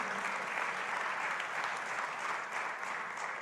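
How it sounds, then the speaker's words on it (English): An audience at a USDA Ag Day gathering gives Chairman John Hoeven a steady, full round of applause, dense and even throughout with no pauses. "Welcome, big round of applause."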